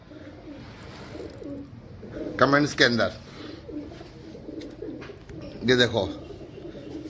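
Pigeons of a fancier's flock of 35 birds coo in two short bursts of throaty calls, fairly close, over steady background murmur, with someone talking throughout.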